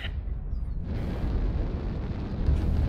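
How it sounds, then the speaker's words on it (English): Continuous heavy rumbling blasts from airstrikes in a Tri BLR video game match on the Viridian Bog map, a dense low roar of explosions throughout, swelling louder near the end. "Airstrikes everywhere."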